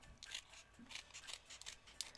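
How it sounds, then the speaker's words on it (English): A pair of scissors trims excess cardboard away from foam, giving a series of quiet, close snips and rubbing cuts at an uneven rhythm over about two seconds. "Now I'm just going to take a simple pair of scissors and I am trimming away the excess cardboard."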